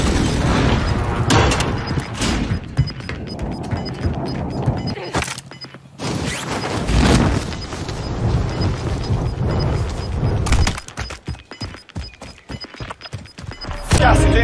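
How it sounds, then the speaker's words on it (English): Precision airstrike explosions in Call of Duty Warzone arrive as repeated heavy booms and thuds, loud and close, with the sharpest cluster of strikes near the end and no talk in the clip. "Enemy precision airstrike."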